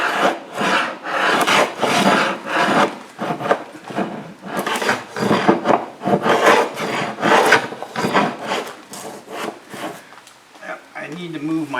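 Wooden boat hull being hand-sanded for fairing, with loud, close, rhythmic rasping strokes repeating steadily, and a voice briefly speaking over the scraping.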